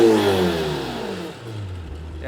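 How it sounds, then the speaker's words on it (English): In Corsa mode, a Lamborghini Temerario hybrid V8 revs hard, the engine note climbing to a loud roar and then falling away before a second throttle blip, heard from outside the car. "Let's rev it in Corsa."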